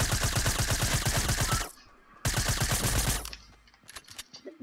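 Rapid automatic gunfire in Fortnite, two fast bursts of sharp repeated shots, close and loud, separated by a brief pause and trailing off into scattered clicks.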